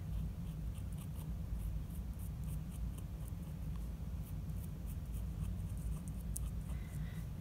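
A pen traces over a drawing on taped-down paper in a steady scratchy scribble, close and quiet, with continuous strokes and a few lighter taps.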